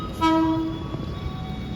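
A KRL JR205 commuter electric train at a Jakarta station platform sounds a short, steady horn note that fades into a continuous station and rail rumble.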